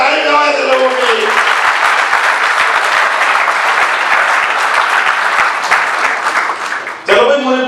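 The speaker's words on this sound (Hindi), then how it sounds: "जोरदार ताली बजाओ ऐसे लोगों के लिए" Loud, dense applause from a comedy show audience rolls on for several seconds, starting and ending under a voice talking over the clapping.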